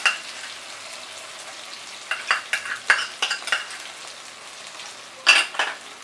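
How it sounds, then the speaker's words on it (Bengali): Ginger paste stirred with tomato in a frying pan over a medium flame gives a soft sizzle broken by a run of sharp utensil scrapes, then a louder clatter near the end. "30 সেকেন্ড মতো নাড়াচাড়া করবো।"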